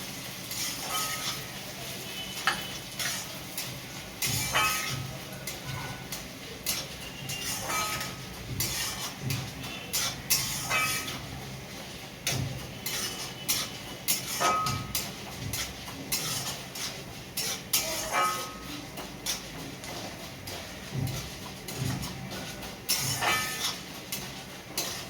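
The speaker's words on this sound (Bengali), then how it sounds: "এবার মুগ ডাল হালকা করে ভেজে নেব এই তেলের মধ্যে।" Mung dal lightly frying in oil in a pan, a soft steady sizzle under frequent clinks and scrapes of a spoon stirring against the metal pot, with no talking.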